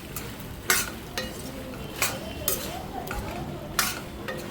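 Wheat pasta coated in masala is stirred in a pan with a spoon, giving scraping and clinking strokes roughly every half second over a soft steady sizzle, close and moderate.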